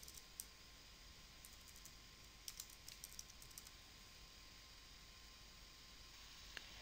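Keystrokes on a keyboard while entering an ID into a form field, a few soft, sparse clicks, some in quick clusters, faint against a steady background hiss and hum.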